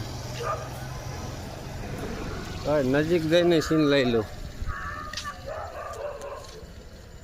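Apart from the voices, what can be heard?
dog barking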